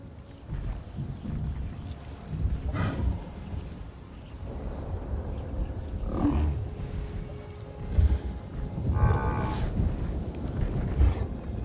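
Storm in the video game Star Wars Jedi: Survivor, with deep rumbling thunder rolling through a continuous roar of wind and rain, swelling in several heavy bursts across the whole stretch without talk.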